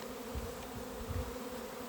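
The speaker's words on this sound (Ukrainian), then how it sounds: "Але там в небі бджоли хмара" Bees in a cloud over an apiary on a cleansing flight, a steady dense buzzing hum that fills the whole stretch, fairly close and continuous with slight swells, no voices.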